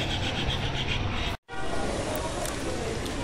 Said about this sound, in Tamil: ஒரு வழியாக நம்ம வண்டிக்கு பாலிஷ் போட்டாச்சு.